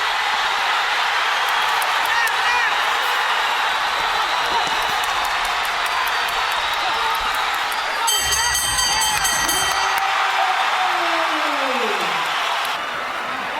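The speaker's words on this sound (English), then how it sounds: "Trying to cheer the hero on" The arena crowd at the Miguel Cotto vs Sadam Ali boxing fight cheers in a steady, loud roar that swells partway through.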